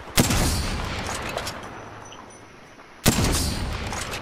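Gunfire in Apex Legends, two loud close blasts about three seconds apart, each followed by a long rolling echo that slowly fades, and no voices.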